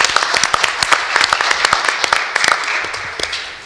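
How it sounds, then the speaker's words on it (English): A small group at a community services district meeting claps to welcome a new general manager. The claps are sparse and distinct, slightly uneven, and taper off within a few seconds. "Everyone give him applause here."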